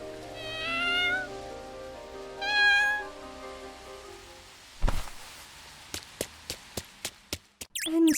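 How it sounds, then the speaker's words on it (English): A black cat meows twice clearly and nearby, followed by a sharp thud and a run of quick clicking taps. "It's a black cat."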